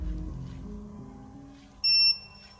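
A high, steady electronic beep from a fishing bite alarm sounds once at night, loud and clear, over a low murmur of outdoor background noise.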